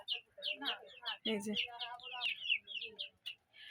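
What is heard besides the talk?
chickens clucking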